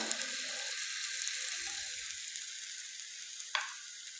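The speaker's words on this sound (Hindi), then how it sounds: "आंच को इसलिए स्लो रखना है कि हमने इनको बहुत जल्दी फ्राई नहीं करना है" Potato cutlets stuffed with kebab masala fry gently in a pan over low heat, with a soft, steady sizzle throughout and one brief sharper crackle near the end.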